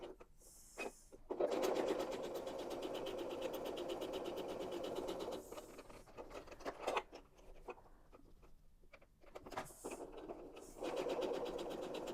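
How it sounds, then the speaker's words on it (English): Domestic sewing machine stitching fabric scraps for a small heart-shaped pocket gift, running in steady whirring bursts with brief pauses between seams, close and fairly loud with no talking. "now I'm going to sew down this side and down this side"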